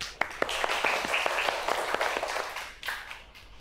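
A classroom of students claps for the top-scoring pupil, a short burst of quick, uneven hand claps that swells and then tapers off within a few seconds, close and moderately loud.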